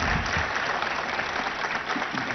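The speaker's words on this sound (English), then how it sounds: "they deserve a big round of applause first." Audience at a civic event attended by mayors at ICICI Bank Towers, Nanakramguda, applauds the organizers with dense, even clapping that holds steady at a moderate level for a couple of seconds.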